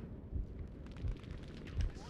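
Bursts of BAR M1918A2 gunfire in Battlefield 5 multiplayer: three low, thumping shots spaced roughly evenly over a couple of seconds, fairly faint and muffled under the game's background noise.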